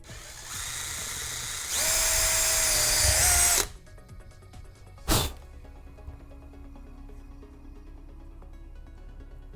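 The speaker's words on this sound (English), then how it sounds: "So let's go ahead and drill." A power drill bores into a small metal ring on a Boba Fett left vambrace prop. It whines steadily for several seconds and rises in pitch as it speeds up, then stops, followed by one sharp knock and near silence.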